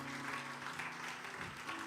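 Congregation applauding in a church service, a steady, dense wash of clapping with faint voices mixed in, continuous and fairly distant throughout.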